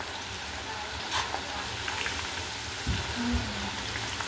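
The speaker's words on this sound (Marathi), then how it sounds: "असं छान तळून घ्यायचं आहे" Sliced onions deep-frying in about half a litre of hot oil give a steady, soft bubbling sizzle, with a few brief low knocks and short tonal sounds breaking in near the end.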